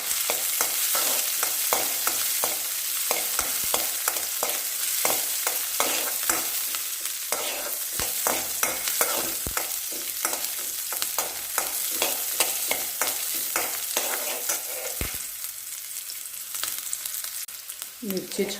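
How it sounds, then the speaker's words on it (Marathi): Peanuts and green chillies fried in a pan for a fasting dish, a continuous close sizzle carrying rapid, repeated scraping and clicking of a spatula throughout, easing slightly toward the end. "एक मिनिटभर शेंगदाणे परतले की त्याच्यामध्ये आपल्याला मिरची घालायची आहे."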